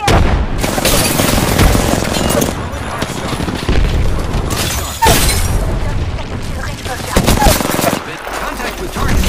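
Frag grenade blasts and heavy gunfire erupt in an Apex Legends match, with loud bursts of automatic shots and sharp booms stacking close together, overlapping bits of character voice lines.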